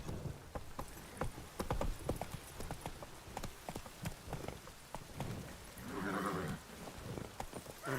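Hooves of Roach, the horse in The Witcher 3, clip-clopping at a steady trot in quick irregular beats, with a brief snort or whinny near the end and no voices.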